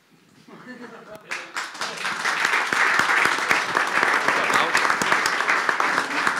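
Audience applause at a talk on domain-driven design, building from a few claps into sustained, dense clapping that holds steady and close until the end, with a voice briefly heard at the start.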